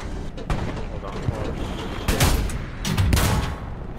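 Tank gunfire in the World War II shooter Hell Let Loose, heavy booming blasts and rumbling explosions over constant battlefield noise, with a couple of louder hits near the middle and end.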